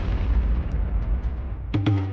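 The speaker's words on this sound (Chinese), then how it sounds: "发射4枚伤害为450的玉米炮弹" Corn cannon shells bombard zombies in the game Plants vs Zombies Fusion, a dense rumbling barrage of booms followed by two sharp, bright cartoonish pops near the end, with no voices.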